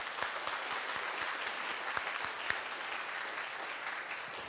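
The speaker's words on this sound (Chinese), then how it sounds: "那我们用最大的掌声来欢迎赖牧师" Sustained applause from a church congregation welcoming a pastor at a Sunday service, dense steady clapping with a few sharper individual claps standing out, continuous throughout with no voices.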